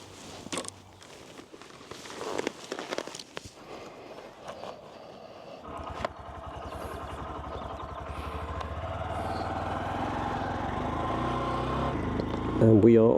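A touring motorcycle loaded with new luggage and a bungeed-on tent starts up and pulls away, footsteps and clatter giving way to a steady, rising engine hum that grows louder toward the end, with someone talking early on.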